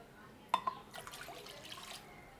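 Water is poured into a pan, about 2.5 cups, for boiling gatte in an Indian kitchen. A couple of sharp splashes open the sound, followed by a soft, uneven trickle that fades.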